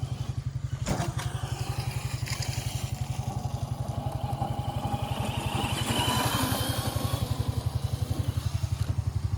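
A Mototec 60V Pro 2000W electric dirt bike rides over bumps outdoors, with a steady low motor drone throughout, a sharp thump near the start and rattling clatter from the suspension over the rough ground.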